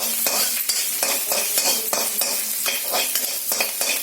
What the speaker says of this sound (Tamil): ஜிஞ்சரை ஆட் பண்ணி நல்லா ஃப்ரை பண்றேன்.